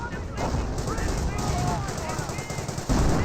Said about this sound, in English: Stu firing some more rounds there as well, getting some more hits onto the infantry sections.